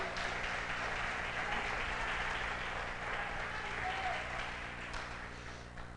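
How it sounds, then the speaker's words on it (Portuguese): Congregation in a church applauding steadily for several seconds, a dense, loud wash of clapping that tapers slightly toward the end, with some voices mixed in. "Então aplaude o Senhor"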